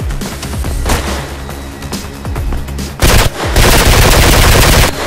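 Loud, close gunfire in Mirror's Edge: rapid automatic bursts and sharp single shots stutter irregularly, building into a sustained dense burst of fire at the end.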